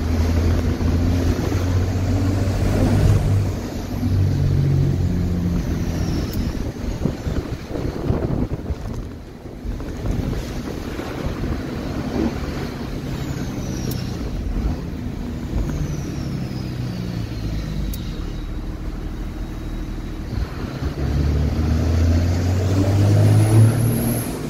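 A Cummins diesel engine runs steadily after a return spring fix, with no high-pitched squeal, a deep low rumble heard outdoors amid gusty wind noise.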